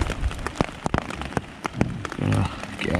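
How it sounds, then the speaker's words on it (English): Rain patters on a tent at a woodland camp in Sussex, with sharp, irregular close drops landing over a steady soft hiss of rainfall. "Now it's like raining just as I want to get up."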